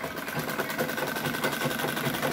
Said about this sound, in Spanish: Ahí va la costura, él tiene que apretar un pedal para que la máquina pueda costurar.